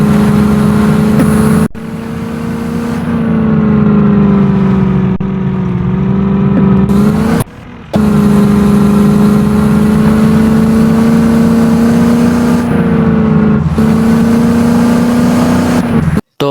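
A modified Thar in a tractor driving video game, its engine drone loud and continuous, whirring and rising and falling in pitch with brief cuts in between.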